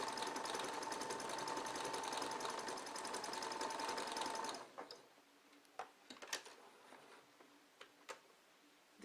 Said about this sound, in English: So I've used my sewing machine and the different decorative stitches